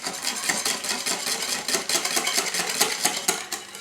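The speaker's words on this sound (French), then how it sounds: "On met ça de côté et on donne un petit coup de mélange." Cake batter for a chocolate walnut fondant cake whisked briskly in a bowl, a steady run of rapid metallic scraping and clinking strokes, close and fairly loud, with no talk.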